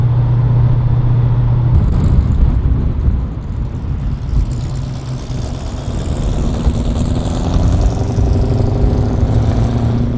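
A Holden HQ car engine, newly bedded in, drones steadily at close range, a low rumble with a shifting tone as the vehicle cruises along, no voices.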